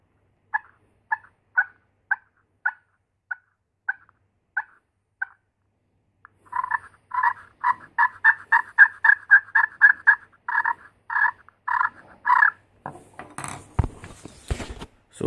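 A turkey call scratched with a solid plastic striker: a slow run of evenly spaced yelps, then a faster, louder series of raspy clucks and purrs, close up.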